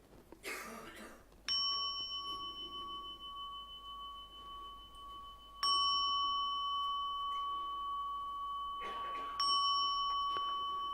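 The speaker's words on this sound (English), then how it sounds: "So we begin with the 3 chime." Three clear chimes of a meditation bell at a Reiki conference session, each a bright ringing strike with a long sustained decay, evenly spaced in a quiet room with a soft cough.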